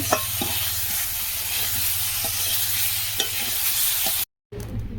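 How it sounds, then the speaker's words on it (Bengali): Cumin seeds dropped into hot oil left from frying fish, sizzling steadily in a pan with a few stirring clinks, close and moderate, followed by a brief cut to silence before the sizzle resumes. "এই মাছের তেলের মধ্যে খালি আরো তেল দিয়ে দিলে জিরাটা দিয়ে দিলাম"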